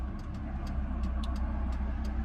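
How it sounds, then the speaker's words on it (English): A slightly squeaking drive belt on a Nissan Micra K11 engine after a car wash on a cold day, with faint, irregular chirps repeating over a steady low engine drone. "The belt squeaks slightly."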